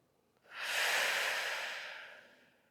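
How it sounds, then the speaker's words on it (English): A single long exhale through an open mouth during a yoga breathing exercise, a soft breathy rush that swells quickly, holds and slowly fades over about two seconds, close to the microphone with no talking. "Open the mouth to exhale."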